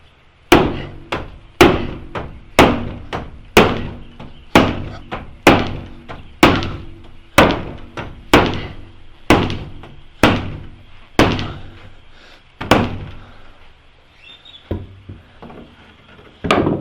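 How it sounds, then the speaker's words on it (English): A sledgehammer pounds 5/8-inch LP WeatherLogic waterproof wall sheathing in a long run of loud, evenly spaced heavy thuds, about one every second, each ringing briefly before the next blow. "Let's see how this does with the sledgehammer test."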